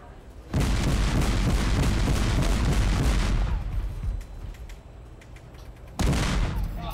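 A naval destroyer's guns fire during a firing run at sea, producing a long loud sustained roar of blasts that fades out before a second heavy burst erupts.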